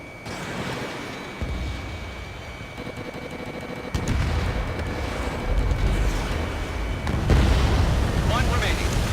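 An enemy bomber blowing up in Ace Combat 7, heard as deep rumbling blasts and booming roar building over continuous jet and combat noise, with a radio voice speaking.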